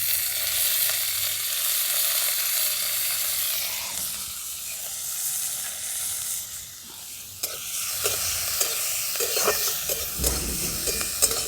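Garlic, ginger, chili and spring onion frying in a pan, a steady bright sizzle and hiss with intermittent stirring scrapes and clinks, close and continuous, without talk.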